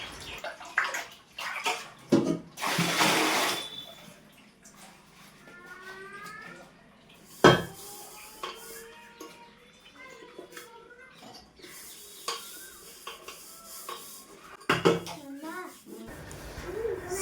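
Dishes, pots and utensils are washed by hand in a home, with bursts of running and splashing water and occasional clatter, while children's voices chatter intermittently nearby.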